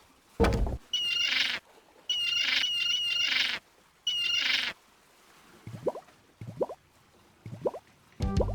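A bird in The Secret of Monkey Island video game squawks in several loud, harsh bursts, followed by shorter chirps and plopping game sound effects.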